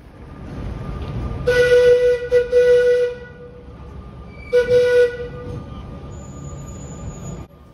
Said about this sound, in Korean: 아마 이게 바닷가까지 가는 트램인가 봐요